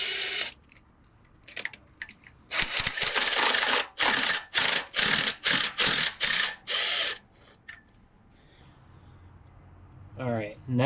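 Bolts being backed out with a ratchet during engine removal on a 2004 Mustang 4.6L: about eight quick, loud ratcheting bursts in a rhythmic run, set between quieter shop noise.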